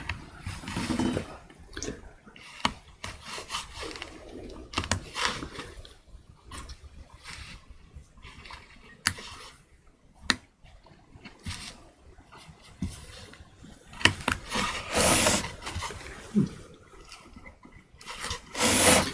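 Hand tools carving wave patterns into a wooden piece, with intermittent scraping and rubbing strokes and occasional sharp knocks, close up and uneven in rhythm, with quiet stretches between bursts.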